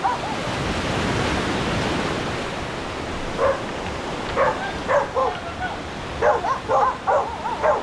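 A dog on a rocky beach barks several times in quick bursts from a short distance off, over steady crashing surf.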